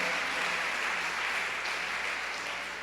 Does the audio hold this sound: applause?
yes